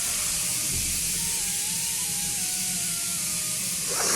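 A pressure cooker venting steam gives off a loud, continuous hiss close by, with faint whistling tones drifting underneath and no talking.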